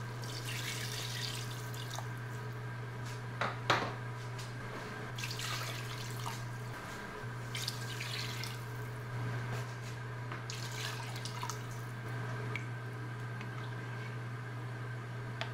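Water poured into a cooking pot while making sinigang, a Filipino sour soup, in a home kitchen in America, running as a steady wash with a few drips and splashes over a constant low electrical hum.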